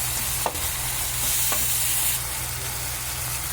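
Tomato dal fries in a pan, giving a steady loud sizzle with a couple of sharp scrapes of a spoon stirring, close up and without talk.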